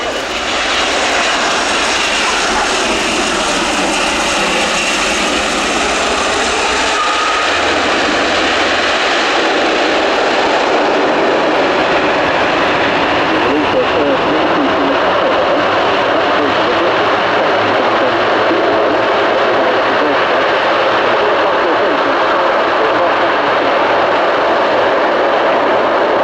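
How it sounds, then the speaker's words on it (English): Loud, continuous roar of a Luftwaffe Airbus A400M military turboprop transport plane landing close by at an air show, its engine noise steady and overpowering for the whole stretch. "Setting the aircraft up in a steep descent, and we'll see a full stop landing"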